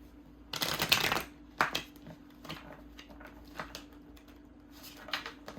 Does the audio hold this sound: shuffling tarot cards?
yes